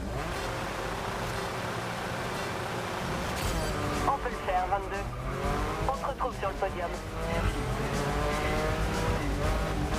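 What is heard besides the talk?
race cars in a race, from video game GRID Legends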